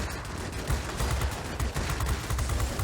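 Steady machine-gun fire from a tail gunner in World of Warplanes rattles in fast, dense bursts throughout, loud and close over a rumbling engine drone.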